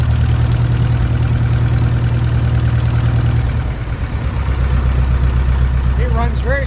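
An International Harvester WD-9 tractor engine at a farm museum idles on diesel, a loud steady low chugging that shifts in tone midway and then settles into a smooth even run, with a faint squeak near the end.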